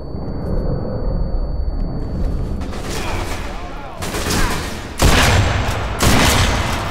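Bursts of rapid gunfire from the video game Sniper Elite V2 Remastered crackle in the foreground, with heavier volleys toward the end over a low rumble.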